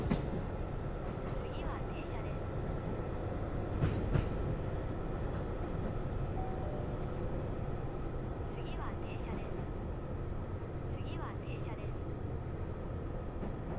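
A train in a train simulator game rumbles steadily over point work, with faint rhythmic clicks from the rails over a continuous low roll, moderately loud throughout.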